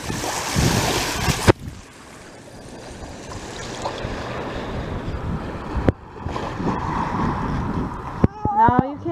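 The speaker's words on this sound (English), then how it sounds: "The waves are strong today." Strong, choppy ocean waves wash and roar near the shore, a continuous surf rush with gusty wind noise and sharp microphone bumps, while voices talk briefly near the end.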